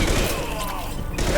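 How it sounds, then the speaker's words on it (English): Concussive shot fire in the Mass Effect 2 video game, a dense, booming blast over a loud, continuous battle din lasting the whole moment. "Firing concussive shot!"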